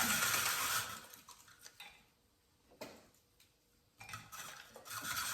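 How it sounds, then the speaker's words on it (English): A knife chops through red onion on a board during pizza topping prep, with bursts of brisk, close cutting strokes separated by brief pauses and a few clinks of kitchen utensils. "I've got some red onion right here, and I'm just gonna cut that up."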